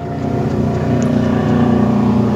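A heavy vehicle rumbles past close by on a residential street used as a construction detour, a loud low engine drone that builds steadily, with no voices.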